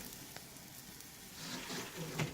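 Quiet, crackling hiss of squash frying in a pan, growing a little louder toward the end, with no voices.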